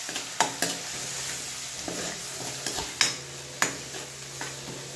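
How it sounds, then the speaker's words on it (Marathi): Green chili peppers sauté in a pan, with a soft steady sizzle and a few sharp clicks of a spoon stirring against the metal, quiet and close. "थोडं परतून घ्यायची मिरची"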